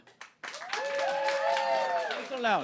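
Talk show studio audience clapping, building after a brief pause into sustained applause with several voices talking over it.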